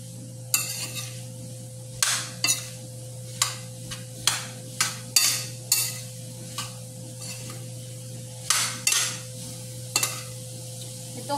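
Bitter melon (ampalaya) with tomato being sautéed in a pan, with a spatula scraping and stirring in repeated sharp strokes over a steady sizzle and a constant low hum, fairly close.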